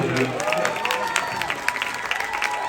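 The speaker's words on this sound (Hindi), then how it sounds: "जोरदार तालियां हो मेरे सर के लिए" Enthusiastic crowd applause at a university event in Chandigarh, a dense wash of clapping with faint cheering and some voices mixed in, over a few seconds.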